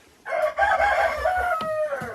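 Hens sitting in their nesting boxes while laying let out a short run of loud, drawn-out clucking calls, close by and with no other sounds around them.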